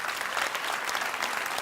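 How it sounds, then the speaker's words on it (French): A church congregation at an Easter service applauds and cheers, a dense, steady wash of clapping that fills the whole moment without a break. "tous ceux qui ont connu ce momentum dans leur vie applaudissent et acclament"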